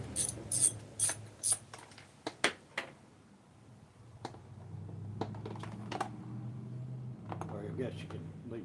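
A hand ratchet loosening bolts on a 2009 Kawasaki KLR 650 motorcycle gives a few sharp, close clicking bursts early on, then a steady low mechanical drone with occasional clicks; someone talks throughout.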